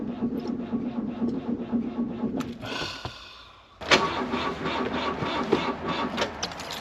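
A 6-metre camper van on a hot day in Ronda, Andalucia: after a fading hum and a brief lull, the engine catches with a sharp burst and settles into a close, steady, smooth rumble.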